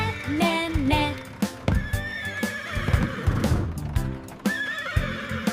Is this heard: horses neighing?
yes